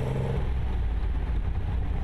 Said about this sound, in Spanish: Lo atractivo es el sonido del motor y el entorno, ya que el auto es abierto